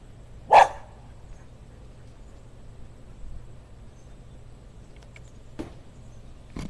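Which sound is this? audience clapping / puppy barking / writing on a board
puppy barking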